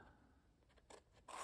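Scissors snip along the edges of dry collage paper, a quiet scraping rasp followed by two short, brighter cuts near the end, close and alone.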